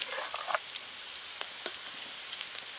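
Mustard and chilli paste hitting hot oil in a pan on a clay village stove, giving a soft steady sizzle with scattered small pops and crackles, fairly quiet.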